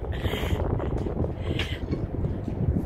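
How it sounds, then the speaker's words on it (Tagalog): Strong wind on Shelter Island buffets the microphone in a steady, roaring rush with gusty swells, heard alone throughout. "Lakas ng hangin. Sarap maglakad dito."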